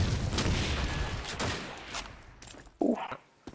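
Online Call of Duty 2 match sounds, with a burst of gunfire and a muffled grenade blast heard at a distance in a church area, followed by a brief sharper boom.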